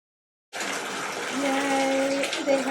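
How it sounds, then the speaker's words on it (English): Water gushing steadily into a bathtub from the tap, a loud continuous rushing that starts abruptly and holds, with a faint pipe whine rising partway through, no talking. "I have been wanting to soak in the tub for so long, and I get to do it."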